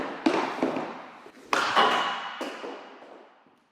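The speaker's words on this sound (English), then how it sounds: "First shot with the FT9 Pro, 75 flex, P9 ETM." Hockey shots with a CCM JetSpeed FT9 Pro stick, 75 flex, P9 pattern: a couple of sharp stick-on-puck cracks with ringing decay, the loudest near the middle, followed by a lighter tap.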